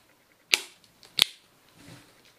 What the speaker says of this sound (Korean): 플래시 팝업